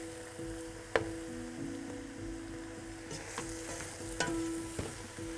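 Eggplant seasoned with salt and dried mixed herbs is stirred in a pan, with a steady low sizzle and a few sharp clicks of a utensil against the pan, close and alone.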